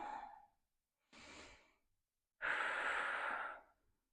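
Close, audible breathing during a resistance band workout: a short exhale, a second breath, then a longer, stronger sighing exhale, each separated by silence.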